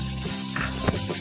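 Chopped onions fry in melted butter in a pan, giving a steady, close sizzle with a brief stirring scrape partway through.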